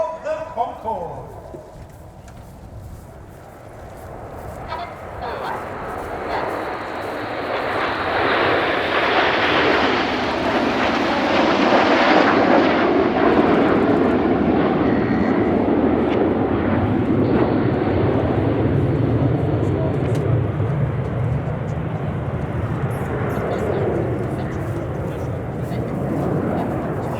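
Red Arrows jets in a flying display at RIAT 2024, a loud broad roar that swells and holds steady for most of the pass, with crowd or commentary noise mixed faintly underneath.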